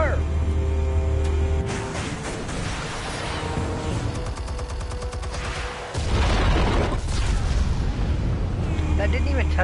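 Heavy rumbling blasts from detonated explosives in a PS4 shooter game, a sustained roar and crackle of debris with a second loud surge, while players talk over the game sound.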